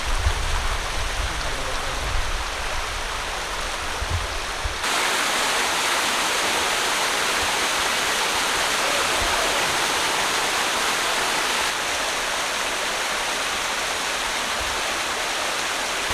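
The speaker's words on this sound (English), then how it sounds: "We made it to the waterfall." Cooper Canyon Falls in Angeles National Forest, a waterfall roaring as a dense, constant rush of falling water, close and loud with no voices.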